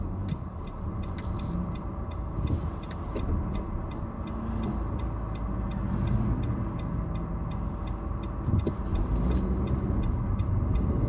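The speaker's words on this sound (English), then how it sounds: "I had to wait for them 2 cars to go out so I can turn" Two cars pulling out past a waiting vehicle, a steady nearby engine rumble with road noise and light ticking, no talk over it.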